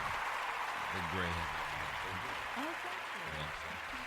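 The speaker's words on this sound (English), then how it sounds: "Let's give her a round of applause for that situation." A live studio audience applauds a female guest, a steady wash of clapping that runs the whole time while a host keeps talking over it.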